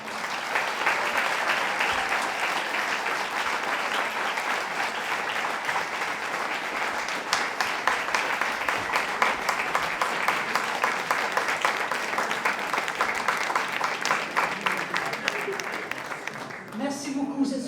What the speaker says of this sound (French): je vous demanderai une fière, chaude et chaleureuse main d'applaudissement